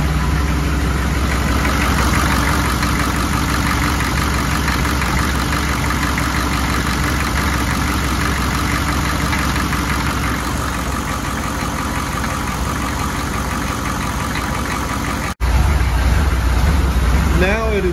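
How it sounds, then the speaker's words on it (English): A diesel truck engine idles steadily with a low continuous rumble and faint rhythmic knock, close and loud throughout, with a brief cut near the end. "Everything's pretty well normal, still idling like it was when we did the cold start."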